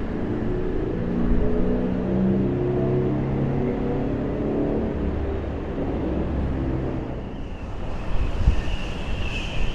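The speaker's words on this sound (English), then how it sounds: "You can hear the wind just battering this material here" Strong gusts in the aftermath of Storm Lilian batter a large windbreak on the Blackpool seafront, a continuous roaring rumble with heavy microphone buffeting that surges again near the end, no voices.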